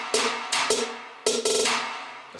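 Clap sound with reverb in an EDM trap beat, several crisp snappy hits in a loose pattern, the later ones layered close together with washy tails, loud and without voices.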